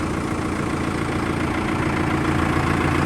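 A TR5110 tractor engine idles steadily on a cold early morning before field preparation, a constant loud, close diesel rumble with no breaks or voices.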